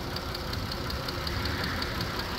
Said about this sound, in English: it's got that little bit of an engine tick